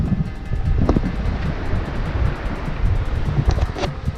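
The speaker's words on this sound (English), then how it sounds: "It's a bit windy." Strong wind buffeting the microphone out at sea off Selsey on a kayak, a steady loud roar with low rumble and faint washing water, no voices.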